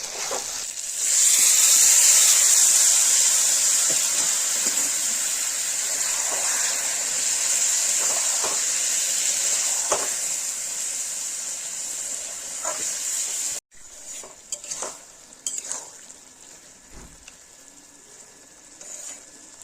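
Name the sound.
bottle gourd added to chicken and stirred in pan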